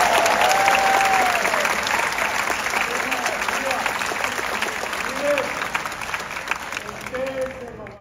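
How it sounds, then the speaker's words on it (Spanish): Audience applause at a Romeo and Juliet stage show, dense clapping from a crowd that starts loud and gradually fades, with whistles and cheering voices rising above it. "Yo quiero un fuerte aplauso."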